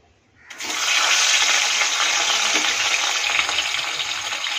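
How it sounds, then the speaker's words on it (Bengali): Rohu fish pieces rubbed with salt and turmeric hit hot oil in a Bengali kitchen, setting off a loud, steady, hissing sizzle that starts abruptly after a brief silence and holds without talk. "প্রথমে আমি এই মাছটিকে নুন হলুদ মাখিয়ে রেখেছি, এবার এটাকে ভাজবো"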